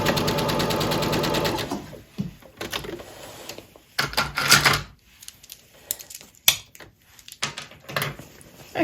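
Sewing machine joining large quilt fabric pieces, with a steady close whirring run for about two seconds followed by scattered handling knocks and fabric rustles.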